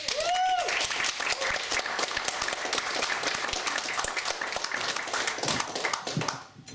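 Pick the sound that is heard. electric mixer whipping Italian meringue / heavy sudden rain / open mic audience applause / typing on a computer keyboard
open mic audience applause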